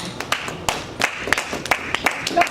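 A church congregation clapping for the Lord in a brisk, uneven rhythm of sharp claps, fairly close and steady with a faint voice underneath.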